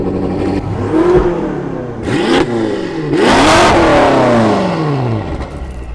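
A BMW M6 Competition fitted with downpipes and a full titanium M exhaust revs repeatedly, its engine pitch sweeping up and falling back in several loud, close blips before settling into a sustained high rev.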